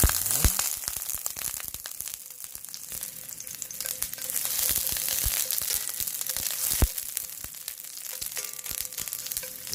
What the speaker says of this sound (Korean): 팬에 올리브유를 좀 둘러서 네, 마늘을 넣겠습니다.